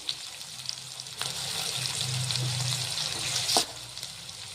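Chopped onions and curry leaves fry in a pan for papar avalakki, giving a soft, continuous sizzle with a couple of brief scraping knocks, fairly quiet and with no one talking.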